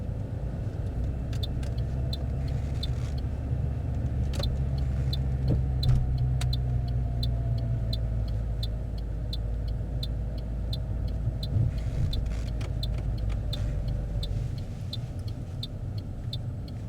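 A car on a mock driving test rolls along with a steady engine rumble and road noise from inside the cabin, holding a fairly constant level throughout.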